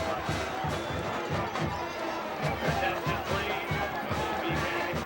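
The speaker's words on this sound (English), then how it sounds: "a very big crowd on hand" A big crowd roars and chatters at a 1997 high school football game, a loud continuous wash of voices under a commentator's talk, with rhythmic thumps running through it.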